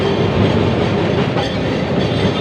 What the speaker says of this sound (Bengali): ট্রাম চড়ছি।